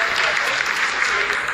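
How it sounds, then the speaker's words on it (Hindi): Sustained applause fills a mission control room during the Chandrayaan-3 lunar landing's vertical descent phase, a dense, steady wash of clapping with no break across the short stretch. "Lot of applause indicates that till now the performance has been nominal."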